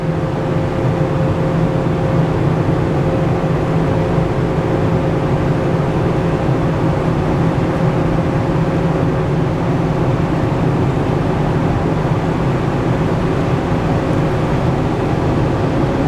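A diesel pickup truck, a Ford F450 Power Stroke or RAM 3500 Cummins, drones steadily and loudly while towing and accelerating into fifth gear with turbo boost, heard from inside the cab as a constant engine roar.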